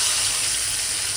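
Onion hitting hot oil with cumin and asafoetida, a brief, steady hiss of frying that fills the short moment with close, bright sizzle.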